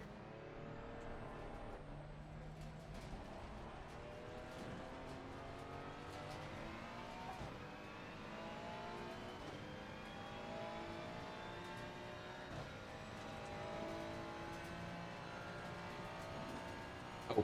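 A Ferrari 296 race car laps Mount Panorama in Assetto Corsa Competizione, its engine note rising steadily through the gears with repeated upshifts and revs. The sound is continuous and fairly quiet.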